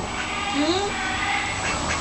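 A duck quacks in short, nasal calls, close and fairly loud, over steady background noise.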